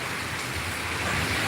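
Rain falls in a steady, fairly dense patter with a light rumble underneath, moderately loud and continuous, with no voices heard.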